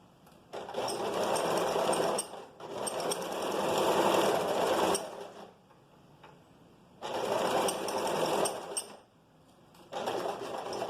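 Close, clear sewing machine stitching along a vest seam, running in three separate bursts of a couple of seconds each, with brief quiet gaps where the fabric is turned.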